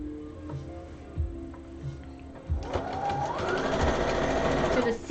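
A domestic sewing machine stitching fabric, starting with a few soft clicks and handling noises, then running in a steady, close, rapid whir that speeds up slightly and holds until the end.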